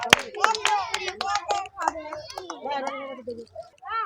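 Children and adults clapping in applause at a children's prize-giving for a game, with brisk irregular claps at close range over a shouting voice and chatter.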